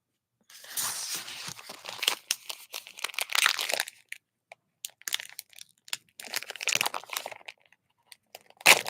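A breakfast food package is torn open with teeth, crinkling and ripping in several bursts separated by short pauses. Packaging crackles close up and fairly quiet, ending in one sharper snap.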